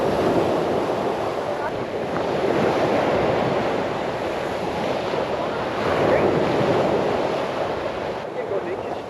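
Waves wash onto a beach at Station 3 in Boracay, a broad, continuous surf roar mixed with wind buffeting the microphone, with swells of louder water rolling in every few seconds.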